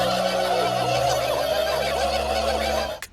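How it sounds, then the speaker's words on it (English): A flock of cartoon turkeys gobbles in a South Park Braveheart-style rally, dense overlapping gobbling over a low droning background that cuts off abruptly. "the show takes it a step further by showing the turkeys themselves being given a gobbly speech by their leader"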